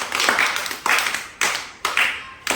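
A third-grade class claps together after a maths activity, giving five sharp, evenly spaced claps in unison that ring close and loud in the classroom.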